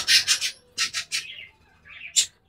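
Wild pigeon chicks give quick, high chirps in short bursts of two or three, with brief pauses between, close by and fairly loud.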